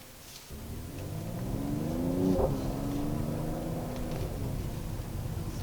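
A 2021 Mercedes-AMG GT 43 accelerates in Sport Plus mode, its engine note climbing steadily and loudly from a low idle-like start into a strong, rising rev, close to the listener with no talking.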